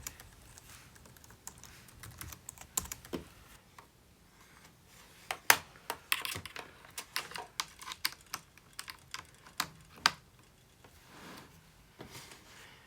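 Keys tapped on a MacBook Pro keyboard while entering a password, a scattered run of light clicks with short bursts and pauses, close and fairly quiet, with no voices.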